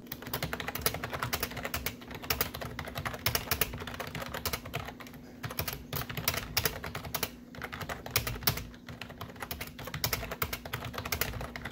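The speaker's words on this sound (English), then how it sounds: "Here's a little typing test I did for an example," Continuous clacky typing on a compact SK2800C mechanical keyboard, close up, with quick irregular keystrokes and no voices.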